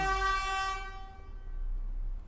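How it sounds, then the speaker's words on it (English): A deep, foghorn-like horn sounds outside in one sustained, rich tonal blast that fades out over about a second, with a low rumble underneath and no talking. "Sound like a foghorn outside"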